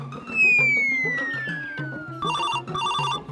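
A mobile phone rings with a melodic electronic ringtone that plays a repeating tune, loud and close, joined by a brighter pulsing chime pattern in the last second.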